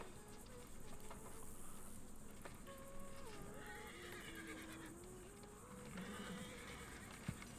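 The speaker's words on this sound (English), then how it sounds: "they've got horses all over the place" A horse in the video game Red Dead Redemption II whinnies a few times over a steady background of insect-like buzzing, faint and somewhat distant, with a soft thud near the end.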